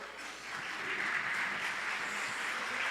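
Soft, distant applause from a church congregation in Sapopemba, a continuous wash of clapping that swells slightly after the first half-second and holds steady.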